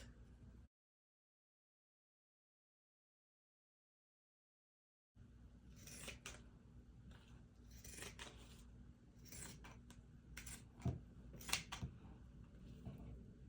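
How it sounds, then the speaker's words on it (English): Scissors cut across faux fur fabric with irregular crisp snips and rustles that start after a long silent gap, sounding close and fairly quiet with no speech. "I'm just going to cut a straight line right across."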